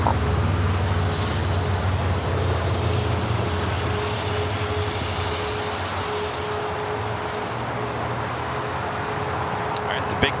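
A jet airliner powers up for takeoff on runway 25 right at LAX, a broad steady engine roar with low rumble and a sustained tone, heard from a distance and holding level throughout.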